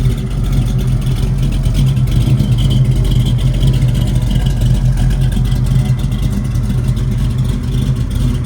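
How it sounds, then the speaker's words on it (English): Close, loud exhaust drone from a 1969 Chevrolet Camaro SS convertible with a 383 V8, holding a continuous deep rumble with slight rev swells across the whole stretch, no talking. "Man, listen to that exhaust, that's awesome."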